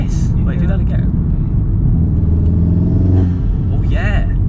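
From inside a Volkswagen Golf R, the engine and intake rumble low and heavy under steady driving, with a rising rev toward the middle, while people talk over the sound.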